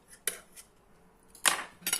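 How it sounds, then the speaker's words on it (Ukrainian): A few sharp clinks of a spoon against a dish of ice cream with pear, separated by quiet pauses, close by. "Так, я їм ложкою"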